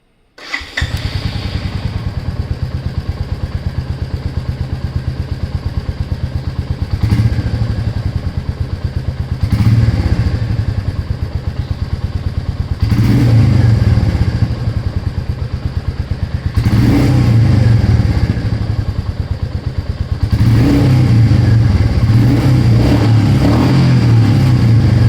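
A Royal Enfield Meteor 350 motorcycle engine runs steadily and close, with a low thumping idle that swells into several throttle blips and revs, about once every few seconds, with no talking.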